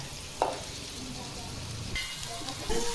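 Soaked poha flakes are stirred into turmeric and salt in a hot pan for kanda poha, with a steady soft sizzle, a couple of scraping knocks of the spoon and a brief clatter near the end.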